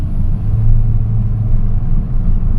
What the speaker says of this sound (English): So let me give some gas.